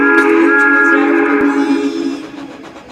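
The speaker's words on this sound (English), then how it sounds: "Thomas wheeshed and set off an old steam whistle" An old steam train whistle shrieks loud and sustained in a single long blast, with a clear tonal chord, then fades away toward the end.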